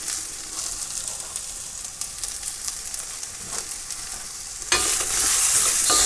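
Sweet chili pork and egg fried rice stirred in a hot pan aboard a narrowboat, a loud continuous sizzle with scraping stir strokes throughout, jumping to a brighter, fiercer hiss near the end.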